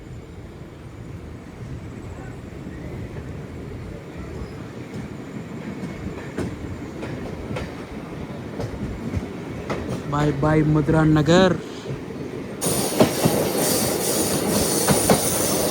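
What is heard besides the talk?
MEMU passenger train running on the main line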